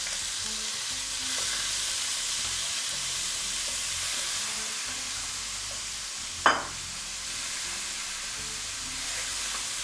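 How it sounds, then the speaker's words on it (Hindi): Minced beef frying in hot oil in a pan, a steady close sizzle and hiss with a brief sharp clatter partway through, no one speaking. "तेल भी गर्म हो चुका है तो हमने इसके अंदर ये कीमा डाल दिया।"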